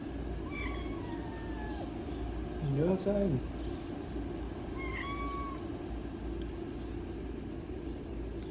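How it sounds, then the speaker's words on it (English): A stray cat meows several times indoors, drawn-out calls rising and falling over a steady background hum, while a person speaks nearby. "This is somebody else's cat."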